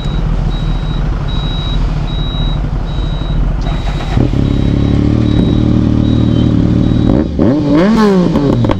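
A Suzuki Hayabusa superbike being ridden, its loud steady engine drone carrying throughout with a repeating high electronic beep, then the pitch rising and falling as the rider revs and shifts near the end.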